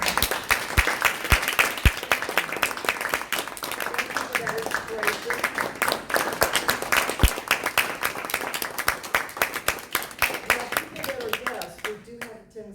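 Audience at a Toastmasters club meeting applauding, a long run of dense hand claps with sharp individual claps standing out, steady for most of the stretch before thinning at the end, with voices underneath.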